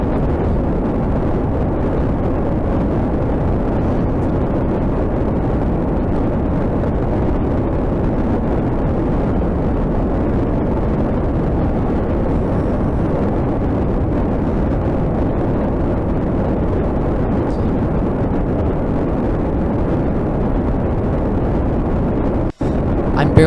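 A rocket engine in Kerbal Space Program gives a constant low, dense roar at barely throttled-up thrust, steady and unbroken throughout with one brief dropout near the end.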